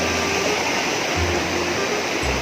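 A waterfall pours over rocks, a loud, constant rushing roar of water close by, with a faint low rumble under it.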